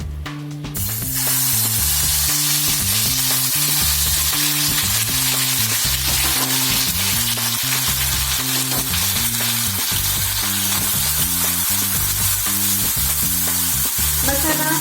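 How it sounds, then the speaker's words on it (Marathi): Masala paste fries in hot oil in a kadhai with a loud, steady, close sizzle that runs throughout, while rhythmic background music plays underneath. "आता आपण कढईमध्ये तेल गरम करून मसाला परतून घेऊया।"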